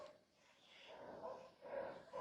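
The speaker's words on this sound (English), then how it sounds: "Excuse the noise, the dog is" A dog whines and whimpers in soft, rising yelps, faint and somewhat distant, in a couple of drawn-out bursts.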